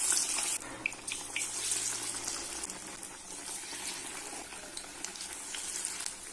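Keerai vada patties sizzling and bubbling in hot oil in a kadai, a steady close crackle with faint clinks and no talk.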